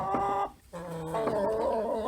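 Chickens clucking close by in the morning, several overlapping tonal clucks and squawks with a brief pause midway before the calls resume.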